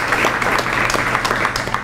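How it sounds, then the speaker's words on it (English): Audience applause at a public event about Dix Park's future: dense, steady clapping fills the short stretch at an even, fairly loud level, with no voices rising above it. "I would like to give a round of applause to the Dix Park Conservancy"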